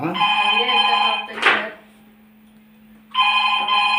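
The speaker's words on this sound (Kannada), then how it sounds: "ಮಾತಾಡಿ, ಫೋನ್ ಬಂದಿದೆ." A telephone rings close by in two electronic bursts separated by a brief pause, and a short burst of noise falls between them.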